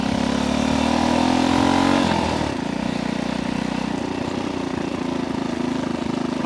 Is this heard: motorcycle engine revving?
yes